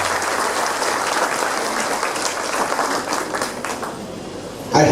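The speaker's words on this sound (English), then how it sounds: "give a big round of applause to all the teachers" School audience at a kindergarten Expression Day gives a big round of applause for the teachers, steady dense clapping throughout that thins slightly near the end before a sudden louder sound.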